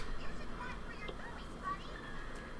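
A bird in a Sonic video game honks goose-like over a dense, noisy game soundtrack, with a few brief honks standing out.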